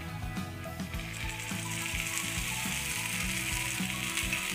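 Thalipeeth made from soaked poha frying in oil in a pan over high flame, a steady bright sizzle running throughout with soft repeated scraping and clinking of a utensil, close up.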